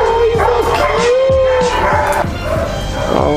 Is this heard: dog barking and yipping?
yes